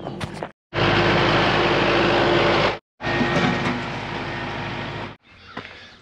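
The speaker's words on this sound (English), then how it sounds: "Now I'm going to come down with the tractor, flip around, and cut this side up." A Kubota tractor with rippers tears up a gravel driveway, its loud engine roar and grinding running in two long bursts split by brief gaps, followed by a quieter stretch.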